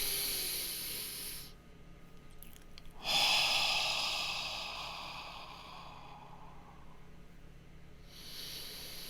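Two deep breaths in and out, soft airy hissing inhales and exhales close to the mic, with a pause between them and a fading exhale at the end.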